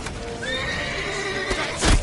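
A horse in a PS4 video game lets out a loud, close, rising and falling whinny, followed by a brief burst of hoof clatter at the end.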